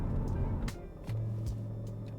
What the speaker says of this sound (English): Car's running smoothly.